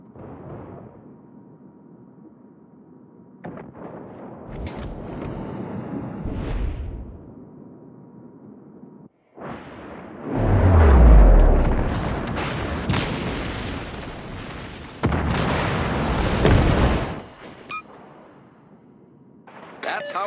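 Heavy naval guns fire in a tier-ten clan battle in a warship video game, several deep booming salvos and rumbling blasts rolling out over several seconds amid game noise.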